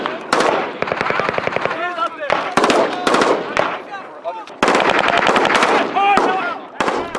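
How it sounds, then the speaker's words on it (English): Machine guns fire on a military training range during Marine assault drills, sustained loud automatic bursts repeating in several strings with brief gaps, with voices heard between the volleys. "the machine guns are working on the target"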